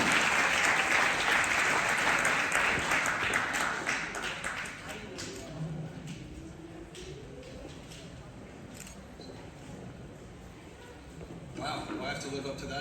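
Warm applause fills a hall at a Lunar New Year commissions event, loud at first and then fading over several seconds into scattered claps and room noise, with a voice speaking later.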